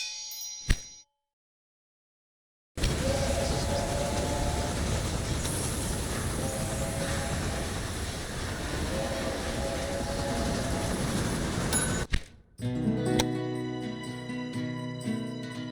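Rolling locomotive and rail cars in the Railway Empire video game, a dense continuous rumble with steady tonal whine and clanks, loud for about nine seconds, framed by short game interface chimes and a brief silence.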